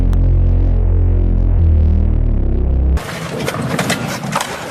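A thick, droning low Reese bass from a Spire synth preset sustains with a slow swirling phaser movement, then abruptly gives way to a brighter, noisier burst of sound.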